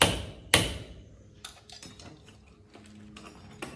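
Metal pins are hammered into wood for a homemade rake built from scrap materials, heard as two sharp, loud strikes followed by lighter tapping and clicks, close by with no talking.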